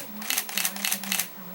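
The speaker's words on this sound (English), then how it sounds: "let's make sure the camera's in continuous shooting" A Nikon D5000 camera fitted with a battery grip fires its shutter in continuous shooting mode, giving a close, crisp burst of about six rapid mechanical clicks in an even rhythm, with a faint tone running underneath.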